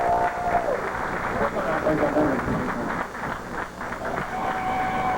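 Sustained audience applause for contestant number 7 at the Miss Continental Plus 1996 pageant, steady crowd clapping with an announcer's voice carrying over it.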